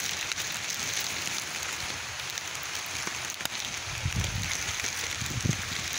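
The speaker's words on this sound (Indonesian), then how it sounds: "di sini suasananya hujan" Rain falls steadily in a village in Central Java, Indonesia, making a continuous even hiss of drops on surfaces. A few heavier patters and low thumps come near the end.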